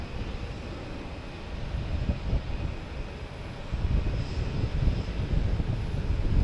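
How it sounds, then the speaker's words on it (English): A Cessna Citation business jet at Boston Logan Airport, a broad distant engine roar mixed with wind buffeting that slowly builds in loudness. "got this little guy here in front of us. Cessna Citation."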